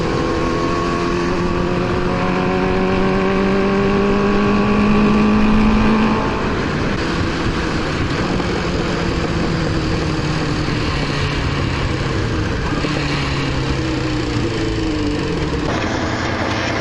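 A car engine runs and revs, its tone rising through several climbing sweeps before settling into a steady loud drone, heard close with no talking.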